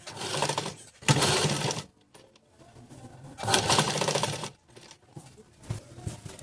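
Sewing machine stitching fabric for puff sleeves in two loud bursts of rapid running, separated by quieter pauses with faint handling noises.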